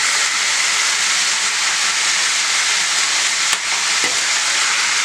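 Meat for kavurma sizzles loudly on a hot saç pan, a steady dense frying hiss throughout with a brief clink partway through, no talking.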